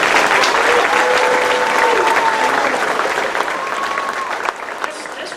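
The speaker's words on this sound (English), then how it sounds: "Let's give them another round of applause." Church congregation applauding during a Sunday service, a dense, steady wash of clapping that fills the room, with a few voices and tones sustained over it before it thins slightly near the end.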